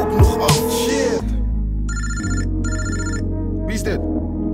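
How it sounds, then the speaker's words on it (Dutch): A telephone rings with electronic bursts in two repeated pulses, over a steady music beat with a voice in a Dutch rap track. "je telefoon die gaat ook nog af"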